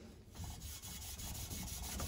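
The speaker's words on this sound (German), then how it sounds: "Und dann nehmen wir ein Schleifvlies" Abrasive fleece rubs discoloration off welded metal parts, a continuous close scuffing with quick repeated back-and-forth strokes at low volume.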